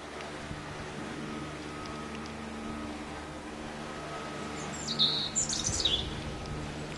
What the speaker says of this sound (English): The birds are up here singing